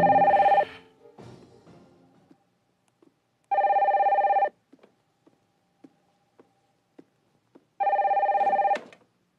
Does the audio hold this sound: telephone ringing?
yes